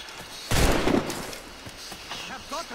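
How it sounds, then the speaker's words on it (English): A sudden heavy volley of gunfire and blasts in the video game Assassin's Creed Rogue bursts out loudly and rumbles away, with voices shouting over the scene afterwards. "Ready to open fire!"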